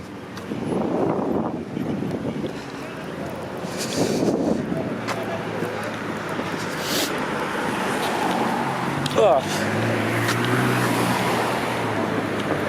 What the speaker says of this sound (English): can already see some traffic building up on Allen Road